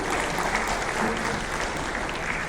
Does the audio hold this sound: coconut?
no